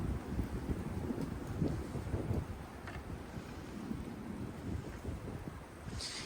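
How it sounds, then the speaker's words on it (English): Strong wind roars and gusts steadily across the microphone, a constant low rumble with surging bursts and no voices. "I know, today's a windy day. Very windy day."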